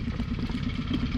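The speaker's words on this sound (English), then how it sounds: "I'm not really sure how long it'll stay idling once the gas is disconnected" A boat engine idles with the gas line just disconnected, a steady close mechanical chug with an even, repeating pulse and no voices over it.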